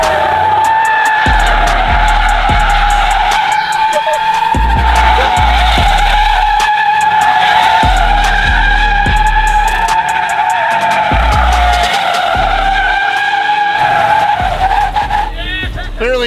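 A Chevrolet Suburban driven hard, tires skidding and squealing in long loud sweeps over a steady engine drone, with repeated thumps and bumps; voices talk over it.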